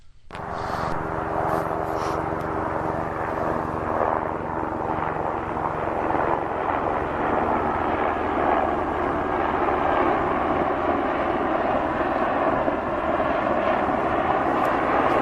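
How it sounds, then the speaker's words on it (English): A helicopter drones overhead in a steady, loud rotor and engine wash that holds for the whole stretch, close and unbroken, with no voices over it. "you'll hear the copter"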